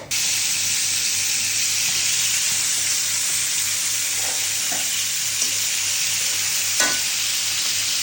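Sliced onions and whole garam masala fry and sizzle steadily in hot oil for muri ghonto, a continuous close hiss with a few soft stirring scrapes and clicks partway through.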